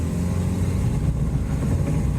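A Honda Jazz with a CVT gearbox accelerating hard from a standstill, its engine droning steadily and loud throughout with a continuous low rumble.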